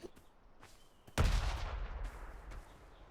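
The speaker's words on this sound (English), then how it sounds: "Grenade" Grenade blast in the Atlas pirate game, a single sharp boom after a quiet second, followed by a rumbling tail that fades over about two seconds, with no voices.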